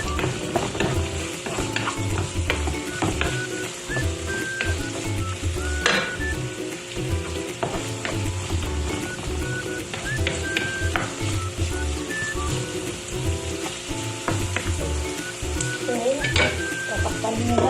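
Onions sizzle in a pan of hot oil with garlic for a chicken liver dish, a steady close crackle with occasional stirring scrapes, and no one talks.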